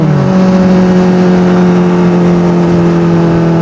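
A Kawasaki Ninja ZX-4RR motorcycle engine holds a loud, steady high-pitched drone close by during a ride in Bulacan, its tone rising slightly at the start and then staying even.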